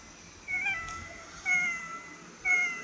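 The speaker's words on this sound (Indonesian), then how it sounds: "Ini kita disuruh nyelamatin kucing" A cat meows three times at roughly one-second intervals in a firefighter video game during a rescue, each call clear and moderately loud over a quiet game background, with no talking.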